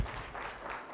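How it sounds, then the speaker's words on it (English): Applause from an audience at an intellectual property conference, honoring a permanent secretary: a dense, steady wash of clapping that fills the whole second without pause. "Another big round of applause for our permanent secretary"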